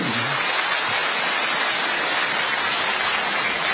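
Audience at a lecture on the Tao Te Ching applauding, a dense, even wash of many hands clapping, loud and continuous for several seconds without voices.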